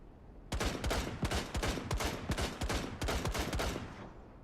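Rapid bursts of gunfire crackle during a competitive video game match, sharp loud shots fired in quick clustered volleys with brief gaps, continuous for several seconds.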